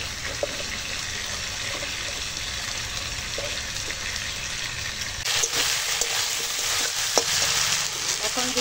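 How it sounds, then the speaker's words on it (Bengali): Diced potatoes and tomatoes sizzle and fry together in a pan with steady close hissing, while a spatula stirs and scrapes through them, the frying growing louder partway through. "আর দিয়ে দেব কেটে রাখা আলু টমেটো দিয়ে একসঙ্গে সব কষাবো"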